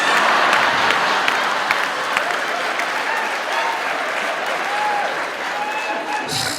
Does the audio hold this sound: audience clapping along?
yes